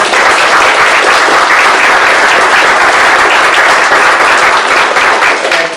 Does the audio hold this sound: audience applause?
yes